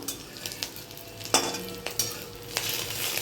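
Fish roe fritters sizzle steadily as small portions fry in a pan, with a few sharp clinks and scrapes of a utensil stirring and flipping them over the continuous crackle.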